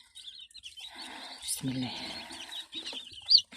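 Native hens and newly arrived chicks in a farmyard coop, soft clucks and chirps under a warming lamp, heard close alongside someone speaking over them, with a sharper chirp near the end.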